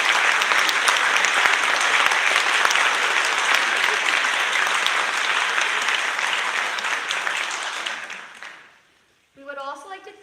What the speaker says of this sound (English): please give our 2025 RTR candidates and representatives a round of applause